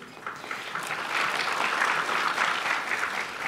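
A seminar audience at a GaN semiconductor presentation claps to welcome a speaker, a soft, even patter that swells slightly and holds for a few seconds.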